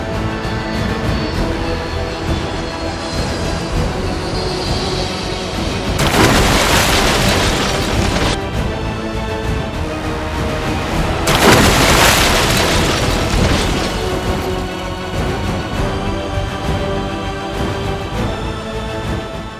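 Loud explosion effects for the Gulf Air Flight 072 airliner crash into the Persian Gulf, two broad booming bursts around six and eleven seconds rising out of a continuous dramatic rumbling background, each lasting a few seconds.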